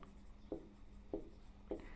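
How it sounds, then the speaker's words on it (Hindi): Three short, faint strokes of writing on a board, evenly spaced about half a second apart, in a quiet room with no talking. "यहाँ पर लिखेंगे"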